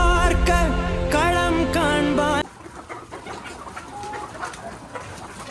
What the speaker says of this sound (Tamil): கருங்கோழிலாம் நிறைய இருக்கு.